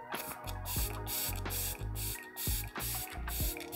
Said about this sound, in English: So I'm just gonna use my All Day Stay All Day setting spray by e.l.f.